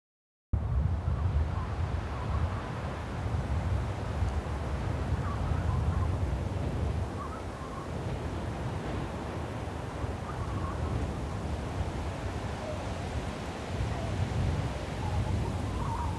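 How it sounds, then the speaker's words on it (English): Cold, snowy wind blows steadily and loudly across an open winter build site, a continuous broadband roar with gusty swells, heard alone without any speech. "this cold, snowy wind is really going to be blowing in as much as it really wants"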